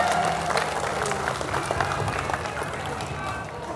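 Audience applause at a farewell gathering for Jakarta civil servants, a dense, steady wash of clapping from a large crowd that carries through the whole stretch, with faint voices mixed underneath.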